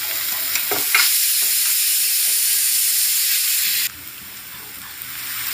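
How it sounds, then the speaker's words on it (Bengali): Chopped onion fries in a pan for a Bengali rui posto dish, with a steady loud sizzle and hiss broken by the scrape and clack of stirring, then the sizzle drops sharply to a quieter fry. "এবার সেই কুচুনো পেঁয়াজটাকে দিয়ে ভালোভাবে নাড়াচাড়া করে ভেজে নিচ্ছি"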